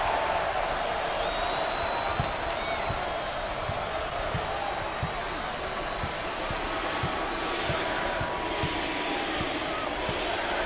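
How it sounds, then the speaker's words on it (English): Home basketball crowd at an NCAA game between Lafayette and Villanova, a steady dense roar of many voices rising into chanting, with sharp ball bounces and court thuds punctuating the continuous arena noise. "The crowd starting to chant"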